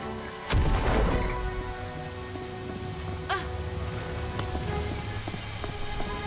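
Bombs go off in the sword-fighting game En Garde!, one heavy close boom followed by smaller scattered blasts and crackles over a steady game background.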